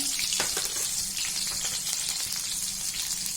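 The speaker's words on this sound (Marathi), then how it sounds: "मोहरी चांगली झाली का त्याच्यामध्ये हिरवी मिरची आणि कढीपत्ता" Green chilies and curry leaves hit hot oil with popping mustard seeds, giving a loud, steady sizzle and crackle close by, with no one talking.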